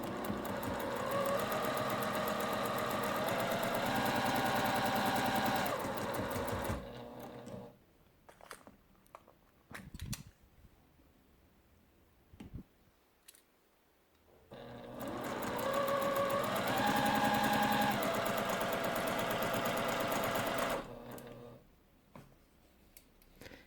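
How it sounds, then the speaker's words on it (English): Sewing machine chain piecing quilt blocks, running in two long steady bursts of fast stitching with a rising then falling whir, separated by quiet handling clicks and rustles. "So let me just turn my machine on here. I'm going to put my needle down and then just let it go."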